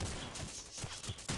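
Rapid bursts of AK rifle fire in the Rules of Survival battle-royale game, several close shots in a choppy volley over about a second and a half, moderately loud.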